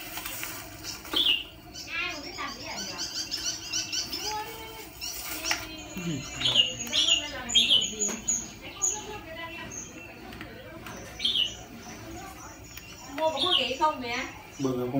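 A red-whiskered bulbul, apparently a caged or trapped bird, gives short bright chirps and whistled calls in scattered bursts, with people talking nearby.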